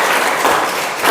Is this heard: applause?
yes